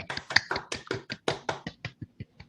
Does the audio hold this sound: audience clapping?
yes